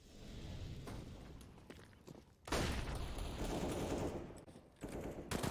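Rapid bursts of FAMAS rifle fire in a Counter-Strike match on Inferno, with dense automatic shots rattling in clusters amid the game's background noise, heard without any talking.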